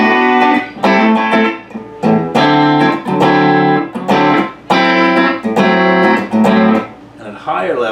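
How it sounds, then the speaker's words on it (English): Short electric guitar chords played in a steady pattern through an EarthQuaker Sea Machine chorus pedal with the dimension set low, each with a quick slapback echo and a shimmering, doubled chorus tone. "the dimension gives you a little slapback effect if it's low"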